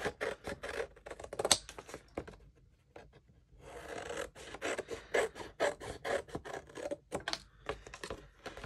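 Cardboard box flaps being cut away with a blade, heard as close, irregular rasping and scraping strokes with short pauses between cuts.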